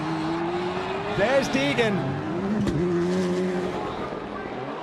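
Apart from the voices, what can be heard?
rally cars racing on a track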